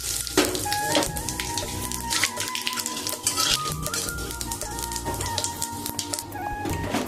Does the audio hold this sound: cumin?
yes